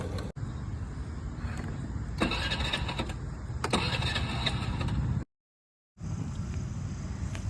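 A car that has broken down on a deserted road cranks over and fails to catch, a steady whirring grind with two brief surges, a sudden cutoff, then another round of cranking.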